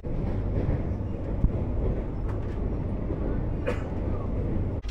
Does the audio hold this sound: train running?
yes